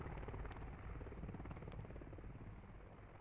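A military helicopter flying in a desert air-assault combat video game, its rotor and engine giving a loud, steady, continuous drone with no pauses.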